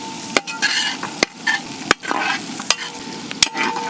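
Onions fry in hot oil in an uruli pan, a close, continuous sizzle broken by sharp scraping clacks as a utensil stirs them every half second or so.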